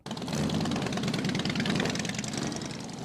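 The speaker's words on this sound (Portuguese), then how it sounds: "A batida de um motor Harley é fruto do desenho original." A Harley-Davidson V-twin motorcycle engine runs steadily and loud throughout, with a deep, lumpy low-end throb and a continuous mechanical rumble, and no voices over it.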